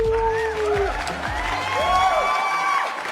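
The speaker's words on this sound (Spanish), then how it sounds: "quiero que recibamos con una fuerte ovación a Daniel Ferrer." An audience gives a loud ovation to welcome the guest Daniel Ferrer, crowd cheering and whooping over a steady wash of applause, with a voice ringing out briefly at the start.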